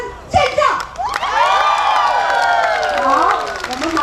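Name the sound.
audience applause and screaming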